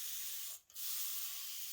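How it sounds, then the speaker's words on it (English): A spray bottle hisses water in two steady bursts with a brief pause between them, close and loud against silence, while wetting paste during a fabric heart cutout craft. "I'm just going to spray some water in here."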